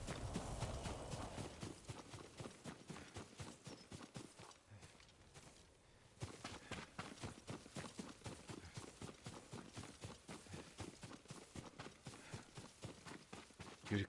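Steady clip-clopping horse hooves in Ghost of Tsushima, a quick regular trot close by that pauses briefly before resuming at a lively pace.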